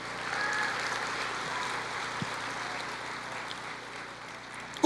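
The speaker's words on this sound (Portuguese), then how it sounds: "Pode aplaudir o Senhor" A church congregation applauding during a Portuguese-language sermon, a diffuse, steady crowd clapping that sounds distant and reverberant, with no voices on top.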